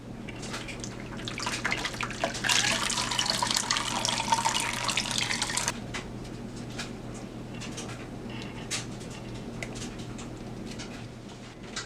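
Soaked palm nuts for Liberian palm butter strained in a kitchen, with a rush of pouring, splashing liquid for several seconds, then quieter trickles and small drips.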